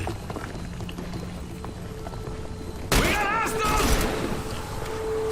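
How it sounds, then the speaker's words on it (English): Gunfire in the video game The Bureau: XCOM Declassified: a sudden loud burst of shots erupts partway through over quieter game ambience, then continues as a dense crackle for about a second before easing off. "the gunshots are happening afterwards, so I'm figuring it was delayed"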